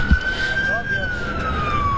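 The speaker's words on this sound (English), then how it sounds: "I'm starting to hear more sirens in this area" A police siren wails near Camden Yards during the Baltimore riots, one steady tone slowly falling in pitch over a low street rumble, moderately distant, with no clear speech over it.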